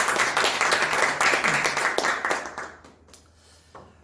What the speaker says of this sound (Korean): 우리 또 7구역과 기쁘게 받으실 하나님께 영광의 박수 올려드리겠습니다